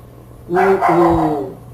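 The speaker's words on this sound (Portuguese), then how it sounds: "Só para concluir que o cachorro já está agitado aqui" A dog barks in agitation late at night, giving a short run of moderately loud, close barks with a whiny, yelping edge.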